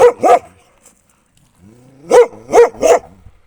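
A dog barks twice, goes quiet briefly, then lets out three more loud, close barks in quick succession.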